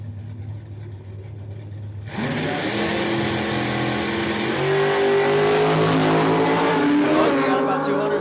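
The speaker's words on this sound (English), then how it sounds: "The moped gonna try to chase him down." Drag racing motorcycle accelerating down the strip at a state championship dragway: a sudden loud engine roar that climbs steadily in pitch, with a race announcer talking over it.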